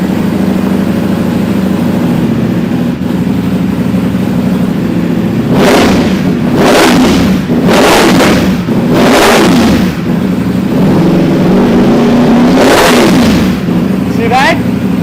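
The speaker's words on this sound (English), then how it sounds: "Now, let's try to rev this up." A Ducati Panigale motorcycle engine idles loudly up close, then revs in a series of quick throttle blips that rise and fall five or six times, with someone talking over it.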